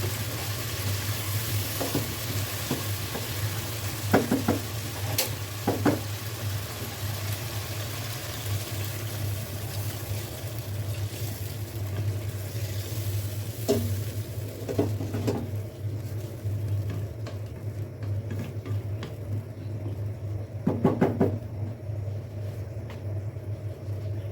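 Fish frying in a pan for a bean curry, with a low steady sizzle and a few scattered stirring clicks and clatters across a long stretch, close but quiet.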